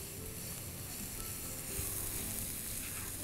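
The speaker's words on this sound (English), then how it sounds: "Fry the paste." Spice paste frying in a pan over browned onions, a soft continuous sizzle and crackle, steady and fairly quiet, with no voices.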